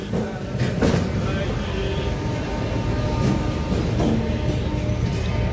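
A train rumbles at low pitch as it starts moving out of Secunderabad railway station, with a steady mechanical drone and occasional clunks, voices faint in the background.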